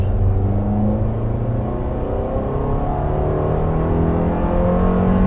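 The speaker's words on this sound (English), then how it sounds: "I'm going to go to the highway and give it a full pull" A 200-horsepower 2019 Toyota RAV4 accelerates at full power on a highway, its engine a steady, loud drone that rises gradually over several seconds with no talk.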